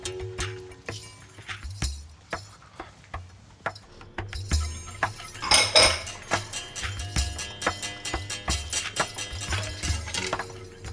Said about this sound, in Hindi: मैं जरा वो किचन में जाती हूँ बर्तन अलग करने